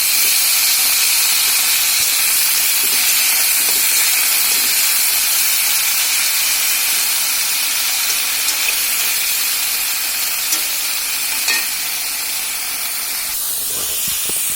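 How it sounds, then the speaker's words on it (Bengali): Cut eggplant pieces fry in oil in a pan with a steady, loud, broadband hiss that holds evenly for the whole stretch, with a few faint clinks and no talking. "আমাদের বেগুনটা ভাজা হয়ে গিয়েছে"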